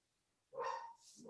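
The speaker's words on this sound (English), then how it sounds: "I apologize for the dog." A dog gives one short bark indoors, moderately close and fairly quiet, with no talk over it.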